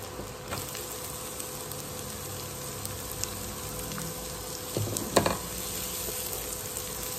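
Chopped onions fry in a pan over a medium flame for restaurant-style paneer khurchan, giving a steady close sizzle with a few louder spatters and stirring scrapes near the end, with no talking.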